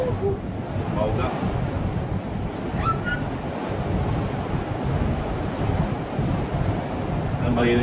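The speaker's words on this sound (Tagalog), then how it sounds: "Maririnig naman yung lakas ng hangin dun sa audio." Strong wind gusting outdoors by a tall tower, a loud continuous roar buffeting the microphone, with faint voices under it.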